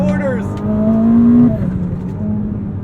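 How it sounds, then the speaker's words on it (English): A Ferrari SF90 Spider's V8 engine revs hard while driving, a loud rising tone that climbs and then drops off as the revs fall, with tire and road noise underneath. "I'm loving the noises as well from the V8 motor here on song"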